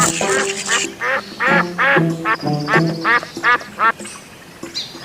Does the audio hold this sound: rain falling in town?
no